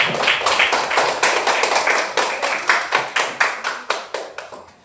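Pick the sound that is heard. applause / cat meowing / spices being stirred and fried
applause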